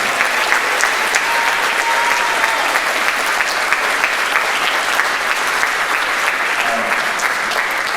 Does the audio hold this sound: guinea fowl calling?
no